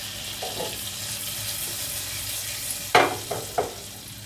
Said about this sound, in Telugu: ఆవాలు జీలకర్ర రెండు ఎండుమిరపకాయలు వేస్తున్నాను ఆవాలు చిట్టుపట్టలు అనేద్దాము